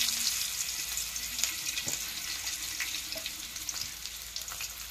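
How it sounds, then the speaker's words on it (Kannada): Garlic frying in a pan for a village-style home recipe, a steady broadband sizzle with crackling pops that holds throughout at close range. "ಇವಾಗ ಬೆಳ್ಳುಳ್ಳಿ ಹಾಕ್ತೀನಿ ನೋಡ್ರಿ"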